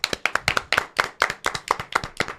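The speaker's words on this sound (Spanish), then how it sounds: "Señores, un aplauso." An audience claps in a Spanish-language radio studio, a burst of about a dozen sharp, evenly spaced claps that sound like a small group clapping in near unison, close and fairly loud, with no talking over it.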